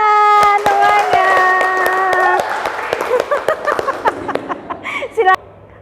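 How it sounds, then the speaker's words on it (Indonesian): A class in a classroom claps together, starting with a loud burst of applause under a sustained tone, then breaking into scattered, uneven claps with light laughter before trailing off. "ya tepuk tangan semuanya"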